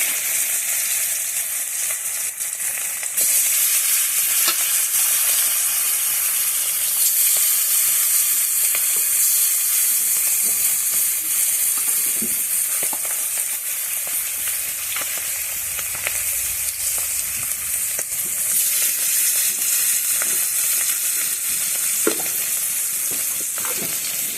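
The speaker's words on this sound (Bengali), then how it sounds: "তো চলো এবার মাছের পিটিগুলো ভেজে নেব, মুচমুচো করে ভাজবো।" Fish patties, crispy-style fillets, sizzle steadily in hot oil, a dense continuous frying hiss that holds loud and close throughout with occasional small pops and no voices.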